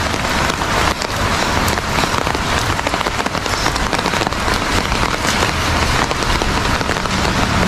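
Heavy rain pours down in a dense, loud, continuous hiss of drops striking surfaces, with no voices over it.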